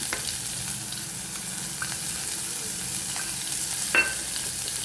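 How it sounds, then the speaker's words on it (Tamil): Steady close sizzling of chopped onions frying in a pan, with a few soft scrapes of stirring breaking through the constant hiss. "இப்போ வெங்காயத்தை நம்ம கொஞ்சம் நல்லாவே வதக்கி எடுத்துக்கலாம்"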